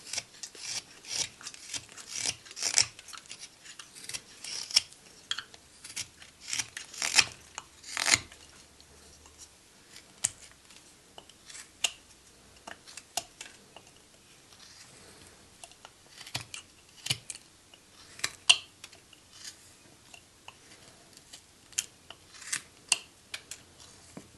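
A whittling knife carves a small 2 by 3 inch wood block with many short, sharp scraping and slicing strokes in an irregular rhythm, close and fairly quiet, with occasional pauses between cuts.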